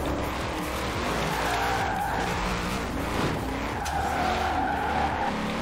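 A drifting car in Forza Horizon 4 holds a long, continuous tire squeal over a steady engine roar, the screech wavering in pitch as the slide carries on without a break.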